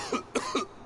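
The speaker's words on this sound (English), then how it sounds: "Why is he coughing so much?" An old male character in Genshin Impact coughs three times in quick succession, close and clear with no other sound.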